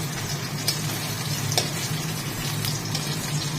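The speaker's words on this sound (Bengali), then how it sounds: "তো চলো মাছ ভাজা তৈরি করে নিই" Fish frying in hot oil, a continuous close sizzle with occasional soft crackles and stirring clicks, steady and moderately loud with no voices.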